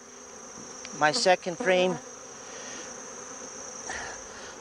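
Strong honey bees in a double-deep hive being rearranged for winter hum steadily throughout, a close, even buzz that continues under a short burst of talking.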